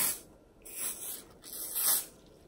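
Hairspray hisses from a can onto hair as a flight-attendant-style hairdo is styled, in soft, close bursts with broad airy spray noise that swells and fades twice over a few seconds.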